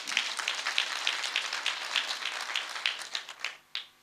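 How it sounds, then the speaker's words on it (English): An audience claps together in celebration of nurses at a Nurses Day event in Kenya, a dense, steady round of applause that tapers into a few scattered final claps near the end. "May I invite all of us to once more just clap in celebration of the central role of the nurse"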